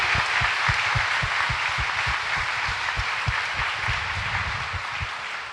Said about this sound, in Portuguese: Pode dar uma salva de palmas para São José,